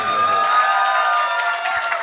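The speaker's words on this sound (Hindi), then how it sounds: "एक दफा फिर से जरा तालियां आप सबकी होनी चाहिए" Audience applause at a mushaira poetry recital in Faisalabad, a dense steady wash of many hands clapping with crowd murmur, fairly loud and continuous, easing slightly near the end.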